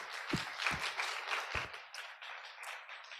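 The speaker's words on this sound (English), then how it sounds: "one more round of applause" Audience applause after a performance at a Sabbath church event, a dense patter of clapping spread across the room with a few sharper claps up close, fairly faint and steady throughout.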